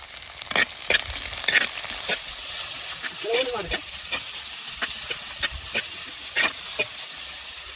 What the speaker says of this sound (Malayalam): പൊട്ടിക്കഴിഞ്ഞാൽ നമുക്കത് ഈ ഉള്ളി ഇട്ട് വാട്ടി കൊടുക്കാം കേട്ടോ.